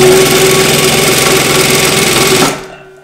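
A Singer industrial 241-2 sewing machine fitted with an upgraded servo motor stitches wrinkled fabric, a loud, fast, steady mechanical rattle that runs without a break for about two and a half seconds, then stops abruptly.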